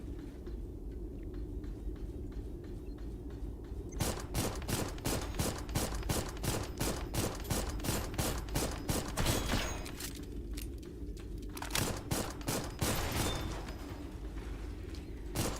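An enemy fires a shotgun in the video game Armored Core. Loud, rapid blasts repeat in a fast regular volley, briefly break off, then resume over a constant mechanical hum.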